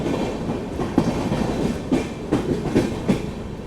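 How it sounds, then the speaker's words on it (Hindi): The Sabarmati Express passenger train pulling out of Ujjain, heard from aboard: a steady rumble with rhythmic clickety-clack thumps of wheels over rail joints, fairly loud and close, no one speaking. "उसके बाद हमारी ट्रेन को उज्जैन से डिपार्चर मिला।"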